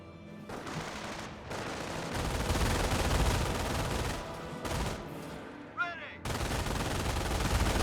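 Dense, sustained bursts of machine-gun fire from an MG42 in the World War II strategy game Company of Heroes, loud and continuous with brief drops and sharp cracks mixed into a busy battlefield din.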